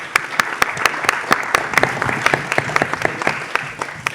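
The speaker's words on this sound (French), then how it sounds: "Voici tout de suite Karen Amanda sous vos applaudissements." Audience applause at a university debate on AI, digital technology and ethics in Europe as a student is called up, with sustained crowd clapping and distinct sharp individual claps standing out throughout.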